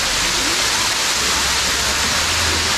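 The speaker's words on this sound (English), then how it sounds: "We've got waterfalls on both sides." Waterfalls on both sides of a pool give a loud, close, unbroken rush of falling water, a dense hiss with no pause and no voices.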